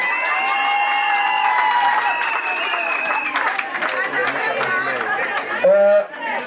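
A church congregation at a wedding service claps and cheers in a lively mix of applause, chatter and whoops. A voice rises over the crowd noise near the end.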